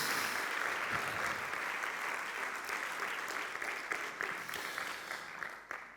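Audience applause, a dense steady clapping from a sizable crowd that carries evenly for several seconds and begins thinning toward the end.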